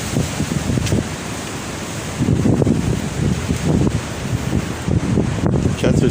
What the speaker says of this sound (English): It's so bloody windy.